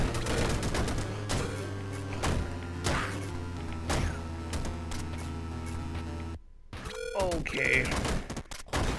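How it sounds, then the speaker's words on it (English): Rapid machine gun fire from the video game Downwell crackles in repeated sharp bursts over layered game music, with a brief drop to silence before more chiptune effects; a voice speaks briefly. "Machine gun."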